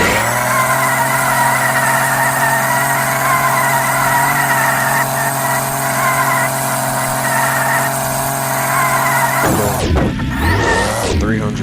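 A car in the racing game Offroad Outlaws, set to all-wheel drive and low gear, holds a loud, steady high-pitched engine roar at top speed for several seconds before it abruptly cuts to a swooping shift in tone.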